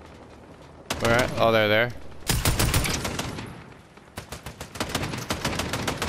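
Rapid bursts of gunshots in the video game Fortnite, fired in quick volleys after a pause, with players talking over the start.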